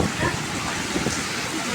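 Heavy rain in Dubai, whipped by strong wind, pours in a dense steady wash, loud and close for a short moment, with people talking over it.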